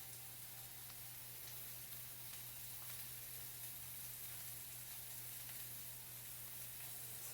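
Salisbury steak patties sizzle steadily in a skillet, a constant faint crackling hiss with a low hum underneath and no talking.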